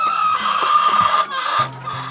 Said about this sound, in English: 160 layers in the brooder placed in front of her house